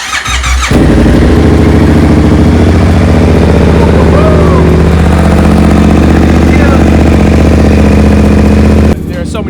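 A 2022 Yamaha YZF-R7 with an aftermarket exhaust idles loud and close, its steady engine rumble running nearly the whole time and starting and ending abruptly, with faint squeals over it.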